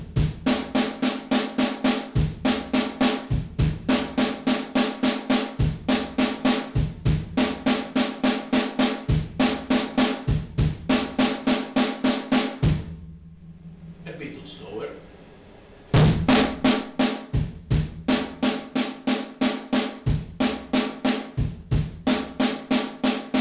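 Drum kit playing a slow linear groove built on sixteenth-note triplets, steady rapid strokes with accents, pausing briefly in the middle then resuming, close and loud.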